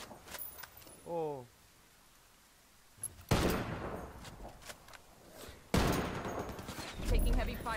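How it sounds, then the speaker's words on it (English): Heavy gunfire in the Ghost Recon Wildlands video game: loud bursts of rapid automatic shots erupt in two long volleys with sharp reports, a voice speaking briefly between them. "Taking heavy fire here."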